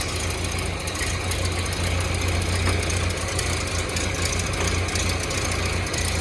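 A 1931 Ford Model A Tudor Sedan engine idles close by, a loud, continuous low rumble with a steady fast knock and no voices.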